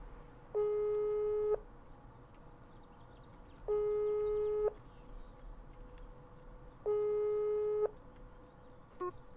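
Telephone busy signal in the video game Psych: three long, evenly spaced steady tones with quiet gaps between them, clear over a faint background hum.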